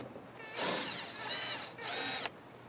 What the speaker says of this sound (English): Take some screws out.